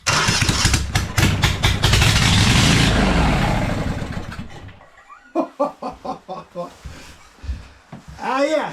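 A small petrol engine runs loud and close at mid throttle for about five seconds, then dies away; voices and short choppy sounds follow.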